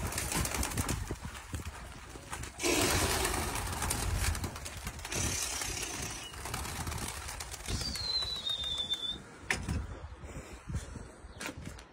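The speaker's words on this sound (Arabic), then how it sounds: "طيور على المطيار تطير بالصويرة بناحية الحفرية" Pigeons flying from a loft, cooing amid bursts of fluttering wings and outdoor background noise, with one clear call rising above the rest near the end.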